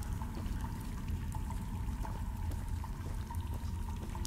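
Steady water pours and trickles through a wet underground space in the ChooChoo Charles video game, a continuous moderate splashing stream with faint drips and no talking.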